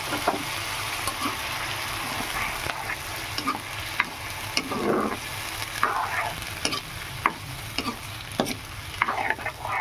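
Spice paste sizzles in a pan with fried paneer, a busy frying hiss broken by scraping stirs, clatters and bubbling bursts, close and continuous with no talk.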